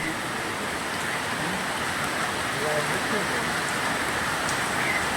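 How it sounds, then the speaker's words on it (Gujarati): Steady, dense rain hiss, loud and continuous throughout, with faint voices murmuring underneath. "વરસાદ ધબધબાટી બોલાવે છે ચાલુ થઈ ગયો છે"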